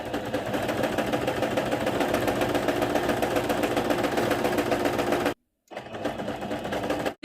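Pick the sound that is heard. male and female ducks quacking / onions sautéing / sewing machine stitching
sewing machine stitching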